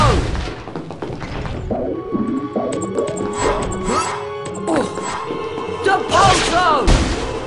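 Repeated Depulso spell blasts in the Harry Potter and the Prisoner of Azkaban video game: a string of loud, close thuds and crashes with whooshing magical sweeps, layered over game music and effects, with voices in the mix.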